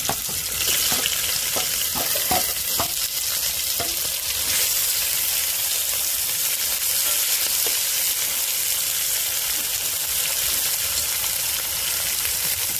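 Onion fries with whole spices in hot oil for masale bhat, a loud continuous sizzle with a burst of stirring clicks and scrapes early on, then a steady close frying hiss with no talk.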